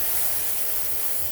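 Carburetor cleaner sprays in one continuous hiss onto a PowerSmart 170cc lawn mower that was in a flooded basement, a short, close burst at steady loudness.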